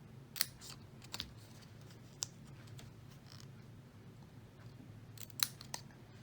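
Scissors cut wedges into card for an interactive card with a turning-wheel mechanism: a handful of quiet, sharp snips spaced irregularly over a faint, hushed background.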